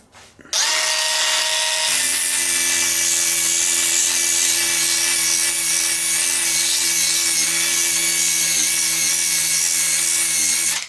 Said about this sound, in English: then we've got a small mini sander now